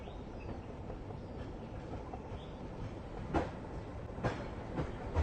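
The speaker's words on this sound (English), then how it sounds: "hey, here comes the tram" A tram runs along its rails on Victoria Peak in Hong Kong, a steady low rumble with a few sharp rail clicks and clacks near the end, with no talk over it.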